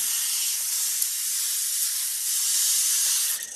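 Spray primer hisses in a continuous, fairly loud burst while painting, a broad airy rush that holds steady for several seconds with no talk.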